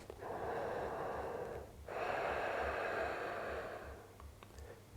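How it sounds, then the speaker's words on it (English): Close, audible deep breathing during a yoga session: one long, airy breath, a brief pause, then another sustained breath that fades toward the end. "Deep breaths."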